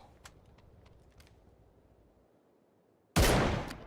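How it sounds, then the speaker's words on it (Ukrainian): Soft clicking over quiet background, then a single loud, sharp gunshot in PUBG bursts out and rings briefly. "Буде постріл в голову одному."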